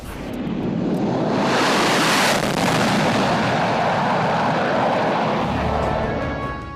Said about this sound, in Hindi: एक C-17 और 2 सुखोई 30 मिलकर बनाएंगे भीम फॉर्मेशन